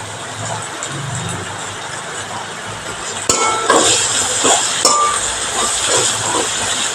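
Curry leaves drop into hot oil with green chilli and garlic for a Kerala fish curry, a sudden burst of crackling sizzle and hiss that rises over steady frying noise.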